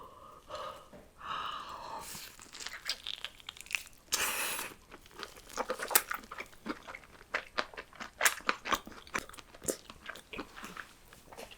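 Fried cheese squid is bitten and chewed close up, giving sharp, crisp crunches followed by a run of wet, crackly chewing with no talk.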